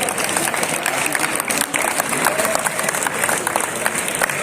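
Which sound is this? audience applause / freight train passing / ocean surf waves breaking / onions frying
audience applause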